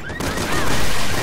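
Resident Evil 6 gunfire: a brief, dense burst of rapid game shots filling the moment, loud and close, with no voices over it.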